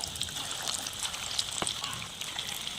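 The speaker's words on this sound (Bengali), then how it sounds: "গ্যাসে তেল গরম হয়ে গেছে, পাকোড়াগুলা একে একে ভেজে নেব" Chana dal pakoras fry in hot oil with a steady, hissing bubble and crackle, close and moderately loud, and one brief clunk partway through.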